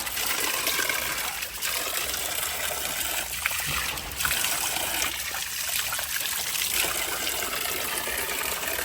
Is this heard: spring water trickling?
yes